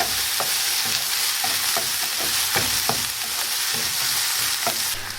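Chopped tomatoes sizzle steadily in hot oil for bread masala while a spoon stirs them, scraping the pan in a loose rhythm of soft repeated knocks.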